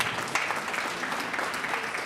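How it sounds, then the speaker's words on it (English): Audience at a women's business incubation graduation ceremony claps in a steady, dense burst of applause lasting about two seconds, fairly close and even in loudness, with no talking over it. "Give her another big clap"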